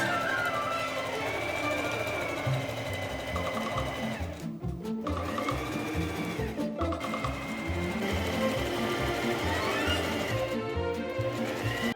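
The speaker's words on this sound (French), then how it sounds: "Faites une piqûre à grands points tout autour de votre pièce à 5 mm du bord." A sewing machine stitches a fishtail-shaped sleeping bag with long basting stitches, its motor humming in a steady rapid rhythm, close and loud, with brief pauses and restarts.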